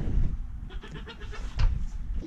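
Young goat kids bleat at a feeder on a farm, several wavering calls close by, one louder cry near the end, with no talk.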